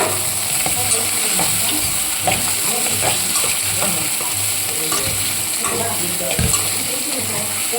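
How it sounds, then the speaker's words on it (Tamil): Greens sautéing in a pan for a lentil ball curry, a steady sizzle with rhythmic scraping stirs repeating about every half second, close up. "இது நல்லா வதக்குறோம்."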